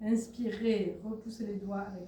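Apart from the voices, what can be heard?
No everyday noises stand out.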